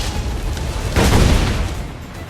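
Ship cannons fire in the pirate game Assassin's Creed IV Black Flag, a single heavy boom bursting out of a constant noisy roar of sea and battle.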